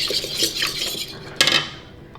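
Eggs are mixed in a bowl with a utensil, a close scraping, clinking whisk of metal against the bowl in quick strokes with one sharper clatter near the end.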